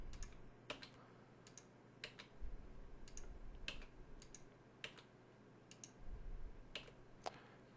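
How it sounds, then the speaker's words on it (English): Keys on a computer keyboard click up close in a quiet room, about a dozen crisp, separate taps at an uneven pace over several seconds, with a faint low hum beneath and no voices. "click on that point and hit your delete key on the keyboard"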